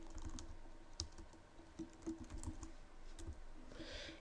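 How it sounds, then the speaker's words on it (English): Typing on a computer keyboard, a quiet run of soft key clicks at an uneven pace, close and faint, with no talking. "I'm just going to type in new post"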